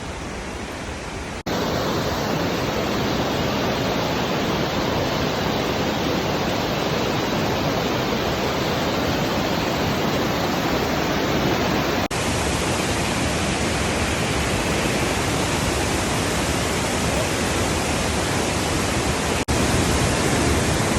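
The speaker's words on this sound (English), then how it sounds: "Nauyaca waterfall." Nauyaca waterfall in Costa Rica roars as a steady, loud broadband rush of falling water, close and continuous throughout with no voices.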